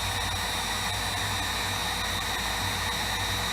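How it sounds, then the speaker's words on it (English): A heat gun blows steadily on shrink tubing over the wiring of a 1979 Honda Gold Wing GL1000, a loud, constant airy roar with a faint whine, alone and unbroken throughout. "Hit it with a heat gun."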